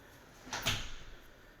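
A self-closing house-to-garage door swings shut on spring hinges, landing with a single close thud and a brief latch rattle that fades quickly in a quiet room.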